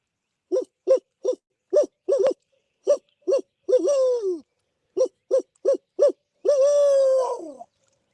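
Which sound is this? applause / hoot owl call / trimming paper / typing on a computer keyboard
hoot owl call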